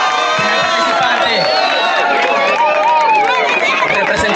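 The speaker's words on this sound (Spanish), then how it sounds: "Fuerte aplauso a la tabasqueña, por favor." A concert crowd on Isla Holbox cheers loudly for a participant from Tabasco, with dense, continuous shouting and high whoops from many voices close by and no gaps.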